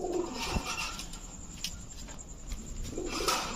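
Several pigeons coo softly in a loft at a racing and high-flyer giribaz pigeon sale, a China Khaki hen among them, with a few short bursts of fluttering or scuffing between the low calls.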